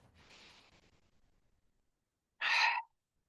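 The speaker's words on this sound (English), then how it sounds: "Maybe take a deep breath." Someone takes a deep breath during a chair yoga session, with a soft, drawn-out exhale and then a short, sharp, close inhale after a pause of quiet.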